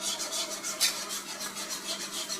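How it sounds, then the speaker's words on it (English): A whisk stirs bacon gravy in a pan with a steady, rhythmic scraping and swishing of circular strokes, fairly close and continuous with no talk. "stir the gravy in circular motions with the whisk, and you will not get any lumps in your gravy"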